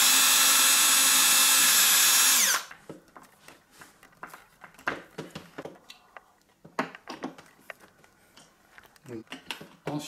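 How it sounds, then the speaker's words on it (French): A power drill bores a small pilot hole for screws while a wireless home alarm is installed. It gives a loud, steady whine for about two seconds, then spins down, followed by quieter tapping and handling noises. "vous pouvez faire un petit pré-trou avant. Comme cela, ça facilitera l'insertion des vis."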